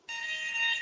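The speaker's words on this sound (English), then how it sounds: "The fire alarm's going off." A fire alarm sounds during an online seminar with a loud, steady high-pitched electronic tone that starts abruptly and holds without a break, with no voices over it.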